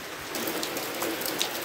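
Heavy downpour at 6 a.m. hisses steadily on surfaces, dense and close, with scattered louder drop impacts and no talk.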